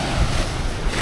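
Ocean surf washing onto a beach at Nha Trang, Vietnam, a steady broadband wash of breaking waves with some wind noise on the microphone, continuous and fairly loud, no voices.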